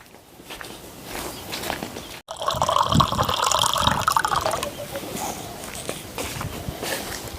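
Water runs from a water cooler in a rushing burst of about two seconds, preceded and followed by quieter outdoor shuffling and movement.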